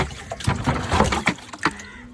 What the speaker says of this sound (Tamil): நான் வந்து நம்ம தண்ணியை பிடிச்சி வந்து தூர தான் ஊற்றுவோம்